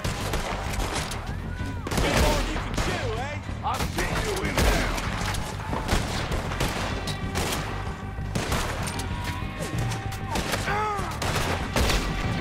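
Repeated gunfire rattles through a Red Dead Redemption 2 shootout, sharp cracks fired in quick succession over a busy, continuous battle din.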